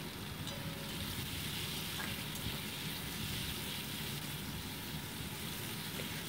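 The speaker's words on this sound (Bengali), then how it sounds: "দিয়ে পেঁয়াজটাকে ভালো করে ভেজে নিচ্ছি।" Onions and cumin fry in a little oil for a fish curry, giving a steady, dense sizzle that runs unbroken and fairly close throughout, with no talking.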